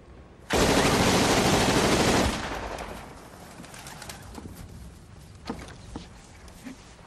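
Browning automatic rifle firing a loud, rapid burst of automatic gunfire lasting under two seconds, followed by a fading tail and a few scattered faint sharp sounds.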